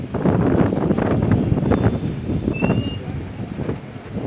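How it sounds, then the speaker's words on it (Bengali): Strong wind before a storm roars steadily as a loud, continuous broadband rush, with a brief high tonal chirp partway through. "খুবই প্রচণ্ড বেগে বাতাস হচ্ছে"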